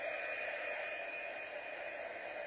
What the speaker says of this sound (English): Okay, we're going to dry this real quick.